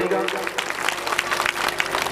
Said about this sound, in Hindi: एक बार पुनः परम महाराज के लिए सुंदर तालियों से आप सभी स्वागत करेंगे।